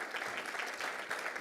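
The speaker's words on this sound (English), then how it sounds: "give him a round of applause" Audience applause at a Hero Club business event as a guest is called up on stage, a steady dense wash of clapping throughout the short moment.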